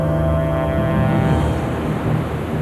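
The four engines of an aircraft carrier, over 250,000 horsepower, are brought up to full speed, giving a loud, steady low rumble with droning tones, continuous and without talk.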